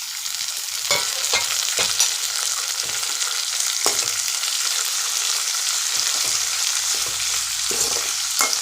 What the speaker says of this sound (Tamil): அதோடவே நம்ம கொஞ்சம் தக்காளியும் சேர்த்து நல்லா வதக்கி விட்டுறலாம்